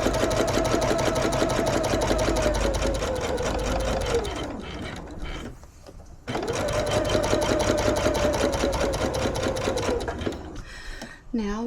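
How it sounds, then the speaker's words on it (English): Sewing machine stitching a reinforcing seam on a handmade bag, a close, rapid mechanical whir with steady needle clatter, running for about four seconds, pausing briefly, then running again. "now let's just run another seam just"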